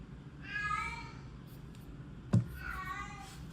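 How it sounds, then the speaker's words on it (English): A hungry house cat cries for more food, two drawn-out meows about two seconds apart, close and fairly quiet indoors, with a sharp knock between them. "If you can hear a cat"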